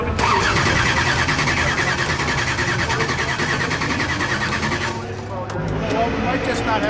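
A small-block street racer's engine cranks loudly and steadily, the starter's rapid whirring laboured as if short on battery voltage, then drops off near the end.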